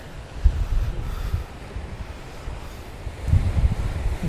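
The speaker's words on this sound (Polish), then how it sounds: "I wieje prosto w twarz" Strong wind buffets the microphone on the lava-rock coast of Los Hervideros, Lanzarote, a loud, steady roar swelling in gusts, with ocean surf rumbling beneath.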